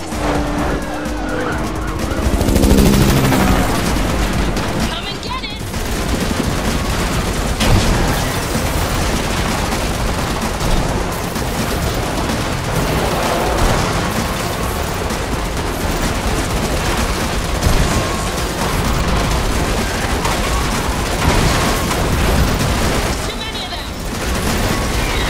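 A big gun fires in the Matrix Awakens Unreal Engine 5 demo, loud broadband blasts and rattling bursts mixed with roaring car engines and skidding tires in a dense, chaotic action scene.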